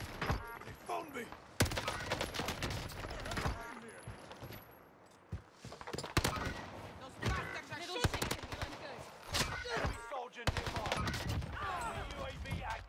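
Automatic gunfire rattles through a multiplayer shooter match in irregular bursts of cracking shots, some close and loud, others more distant, while voices talk over the action.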